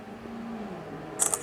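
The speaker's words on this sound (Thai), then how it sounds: "ชัตเตอร์" Two quick mechanical camera shutter clicks from a Samsung Galaxy J1 phone near the end, crisp and close, following a quiet stretch of low room hum.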